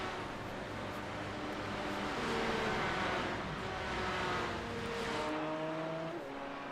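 Race cars in a racing game come down pit road on the Monza Jr circuit. Their engines hum in overlapping steady tones at a moderate level, with pitches shifting as the cars slow and pass.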